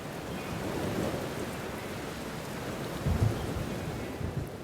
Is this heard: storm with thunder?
yes